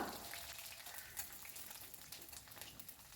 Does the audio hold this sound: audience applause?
no